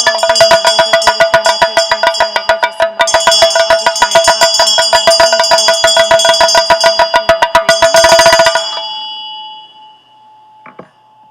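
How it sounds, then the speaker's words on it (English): A ritual hand bell rings steadily and rapidly during a chanted mantra in a Shower of Blessings tsok practice, loud and close, with bright sustained ringing tones before stopping abruptly and fading into a faint final strike. "If you have a bell at home, we'll ring the bell every 4th line of this part."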